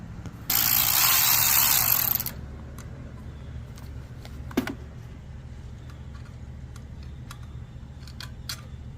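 Mechanical work on a Honda GCV190 lawnmower engine with a 10mm ratchet: a loud two-second burst of whirring ratchet clicks, then scattered sharp taps and clicks over a low steady hum, no talk.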